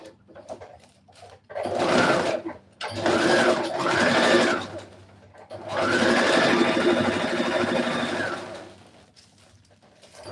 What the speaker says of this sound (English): So I'm going to sew them here first and here, then attach while pleating.